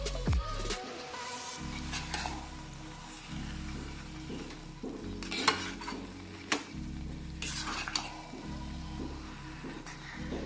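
A thick mawa peda mixture with saffron is stirred in a pan, giving repeated scraping and knocking of a spoon against metal in an uneven rhythm over a low, steady hum, close and quiet.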